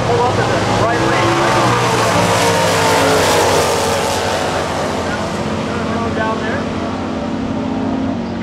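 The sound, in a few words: Plymouth GTX drag race car at Lebanon Valley Dragway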